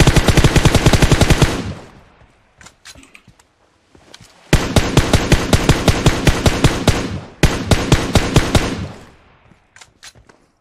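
Rapid automatic gunfire from a shooting video game rattles out in three loud sustained bursts, separated by short gaps with a few scattered single shots.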